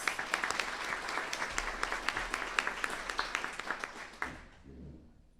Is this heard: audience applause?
yes